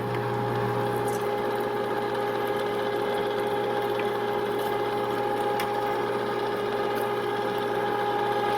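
A Cabela's Carnivore half-horsepower electric meat grinder hums steadily at close range while pushing meat through a fine plate on a second grind, a constant motor drone with faint tonal whine.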